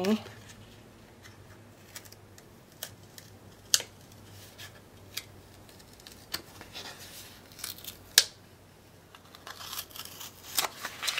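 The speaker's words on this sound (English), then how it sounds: "I'll just cut off that end." Scissors snipping through pattern paper for a handmade card, several sharp close cuts spaced irregularly while someone talks throughout.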